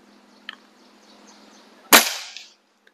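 BSA Supersport MkII carbine air rifle firing one sharp, loud shot that cracks and then decays quickly, with a few faint clicks just before it.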